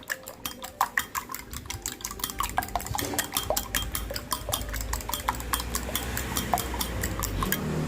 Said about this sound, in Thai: แล้วก็ระหว่างที่เราตีไข่ค่ะ